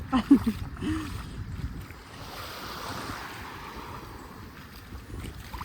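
Surf rolls steadily along a Red Sea beach at Hurghada, a broad continuous wash of waves mixed with wind rumbling on the microphone, with a few brief faint voice sounds at the start.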